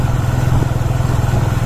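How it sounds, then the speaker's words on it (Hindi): Motorcycle engine running at a steady drone on a village road at night in rural Pakistan, loud and continuous with a low throbbing rumble. "देखते हैं किसकी मोटरसाइकिल है"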